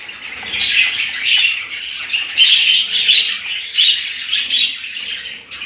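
Pet budgerigars in a home breeding setup chirp and chatter continuously while feeding their chicks, a close, bright, busy twittering with squawky bursts and no voices.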